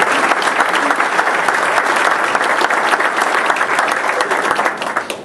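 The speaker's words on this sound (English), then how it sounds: "Would you give them a round of applause" Dense, sustained audience applause at a chamber of commerce event in Cape Girardeau, filling the room evenly for about five seconds before starting to thin out.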